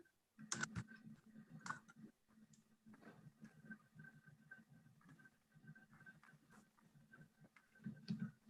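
Computer keyboard typing during an online zoning steering committee meeting: faint, scattered key clicks in irregular bursts, close to the microphone over a quiet room.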